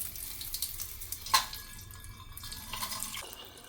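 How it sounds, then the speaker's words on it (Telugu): Tap water runs into a bowl of sago to soak it, a quiet, brief splashing trickle with a small spurt partway through. "సగ్గుబియ్యం మునిగేంత వరకు నీళ్లు పోసి చక్కగా నానబెట్టుకుందాం"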